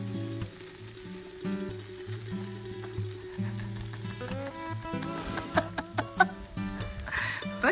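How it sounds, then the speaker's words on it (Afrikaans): Meat sizzles on a braai fire outdoors at Mountain Zebra National Park, South Africa, with a steady fry and scattered sharp crackles and pops over faint background tones. "Ek braai 'n vleisie."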